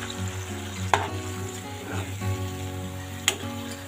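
Spices sizzle in a pan as they are mixed and stirred, a close steady frying crackle broken by two sharp clinks of a utensil against the pan.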